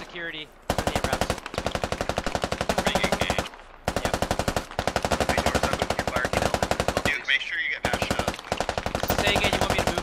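Sustained machine-gun fire from an MRAP vehicle in Squad, long rapid bursts of evenly spaced shots broken by brief pauses, fairly loud and close, with faint radio-like chatter in the gaps.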